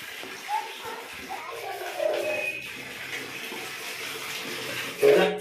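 Hot water runs steadily into a bath, a close continuous gushing splash that fills the scene, while voices talk over it and a clunk sounds near the end.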